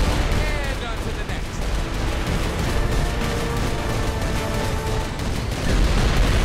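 Dense, continuous gunfire and explosions from Saints Row 4 Re-Elected on Xbox One crackle nonstop, loud and busy throughout with no pauses.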